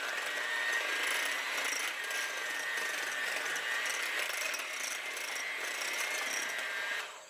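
A spoon or whisk stirs plain yellow or white cornmeal into chess pie filling in a bowl, making a steady, continuous scraping and swishing close by for several seconds.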